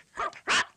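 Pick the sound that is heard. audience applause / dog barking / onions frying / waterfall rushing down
dog barking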